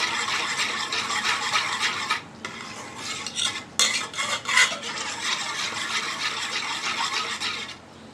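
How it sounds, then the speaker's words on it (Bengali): Half a litre of milk being beaten into a semolina mixture, heard as rapid rhythmic scraping and sloshing of a utensil in a bowl, close and continuous with brief pauses. "দুধ দিয়ে আরেকটু ভালো করে পেটে নিচ্ছি"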